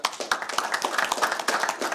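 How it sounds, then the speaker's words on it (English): Meeting attendees at a water district board session clap together in a round of applause, a dense, steady patter of many hands filling the whole moment at moderate loudness. "I'd like to give everybody a round of applause"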